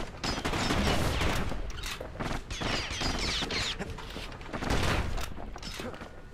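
Gunshots from the player's weapon in the video game Bastion: a rapid, dense string of sharp shots and impacts, loud and continuous, mixed with clanking game effects throughout.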